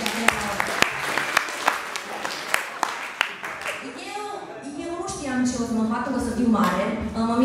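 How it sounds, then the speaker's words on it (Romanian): Audience applause at a youth conference in Oradea: evenly spaced, crisp claps ring out for a few seconds, then a person begins talking over the fading room. "Aplaudați"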